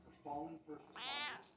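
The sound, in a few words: cat meowing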